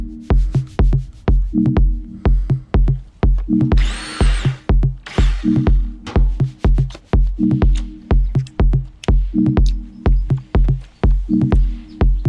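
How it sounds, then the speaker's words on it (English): A power drill runs in short repeated bursts through delaminated, blistered fiberglass on a sailboat hull, pulsing on and off in a steady rhythm, loud and close, with a brief gritty grinding midway. "drill the rest of the way through the delaminated fiberglass"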